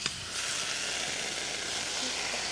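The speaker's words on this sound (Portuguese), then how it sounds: "você pega o abacaxi, coloca na panela." Pineapple dropped into a very hot pan starts a steady, hissing sizzle that carries on evenly, fairly close and without talk.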